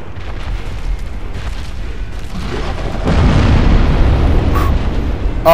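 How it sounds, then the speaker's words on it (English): A boss in a video game casts a giant explosion spell. A rumbling roar swells about halfway through and stays loud and sustained, with a sharp burst right at the end. "he casts like a fireball at you, basically said. Or a giant explosion in front of him"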